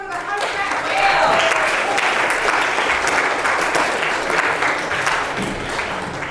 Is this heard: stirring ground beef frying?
no